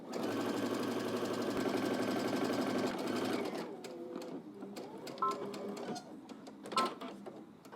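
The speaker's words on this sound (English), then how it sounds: "stitch all the way down on the right side, 5/8 of an inch to the hem" A sewing machine stitches a 5/8 inch seam allowance down the right side of a garment toward the hem, a loud, steady whirring run that stops partway, followed by quieter handling clicks and rustles.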